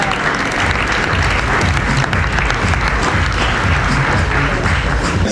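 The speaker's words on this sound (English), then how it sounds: "Give him a round of applause." Dense, loud audience applause filling a theatre at a festival opening ceremony, sustained and even throughout with no break.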